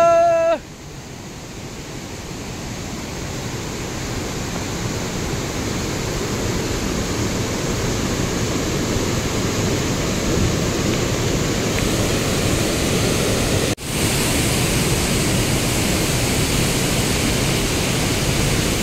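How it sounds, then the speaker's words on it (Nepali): A waterfall beside a walking path roars as a constant, dense, loud rush of falling water, with a brief voice at the very start and a sharp click near the end. "हाम्रो बाटैभरि झर्ना छ ल हिँड्ने बाटोमा झर्ना छ"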